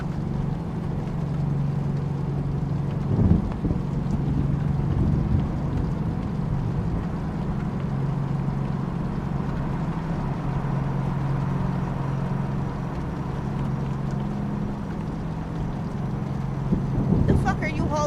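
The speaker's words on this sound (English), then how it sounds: "I just didn't mod this engine, so this is the engine that it came with." Stock, unmodified truck engine in American Truck Simulator drones steadily at a low, even pitch throughout, with a brief louder bump near the start and another near the end.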